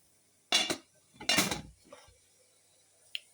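Two clattering metal bangs as a steamer pot's lid is lifted and set aside, followed by a softer knock and a small clink.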